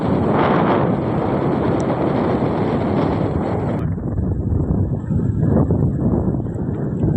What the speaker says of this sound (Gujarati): તો જુઓ કેટલો સરસ પવન આવે છે